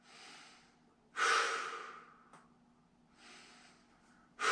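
Deep breaths during a dryland strength workout: two long, loud inhalations, each followed by a softer, fading exhale, close to the microphone with no talking.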